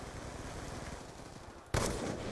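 A single sharp sniper rifle shot in Black Ops II, loud and close, cutting in abruptly after a stretch of steady game background noise.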